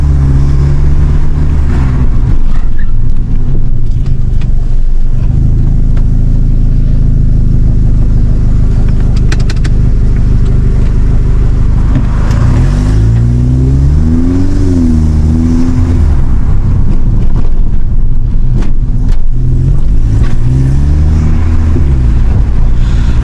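A VW Golf GTI MK5 with a DSG gearbox cruises along from the driver's seat, its engine droning steadily under heavy wind and road noise, rising and falling in pitch through gear changes and acceleration.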